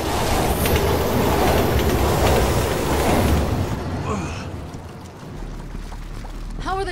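Train rumbling and roaring along the rails in Resident Evil 6, a dense rolling wash that fades out partway through before a whining pitch-shifting sound rises at the end.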